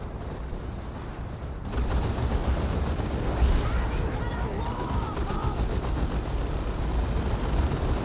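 Continuous dense battle noise from Dawn of War 2: base sentry guns and grenade launcher fire mixed into a steady roar of gunfire and explosions, loud throughout, rising in intensity after the first couple of seconds, with faint voices underneath.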